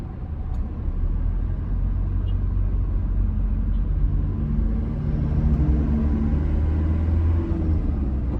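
A Toyota Innova Reborn with a manual diesel engine pulls away in first gear, its low engine rumble rising steadily from inside the cabin with no voices.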